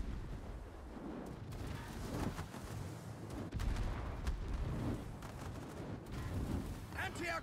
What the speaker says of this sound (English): Anti-aircraft guns are firing on all cylinders!